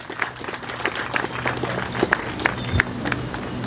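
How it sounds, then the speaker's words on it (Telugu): An audience at a ground-breaking ceremony for a new hostel applauds with scattered, uneven claps over a low murmur and hum, moderately loud and close, some claps standing out sharply. "అందరూ చప్పట్లు కరతాళ ధ్వనులతో."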